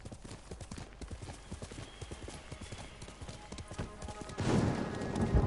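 A horse gallops in Ghost of Tsushima with rapid, steady hoofbeats close by throughout, building to a louder rush of movement near the end.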